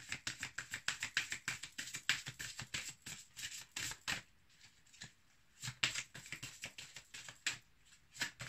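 Oracle cards shuffled and drawn by hand, a quick run of soft, crisp riffling clicks and flicks in close, uneven bursts with brief pauses, fairly quiet.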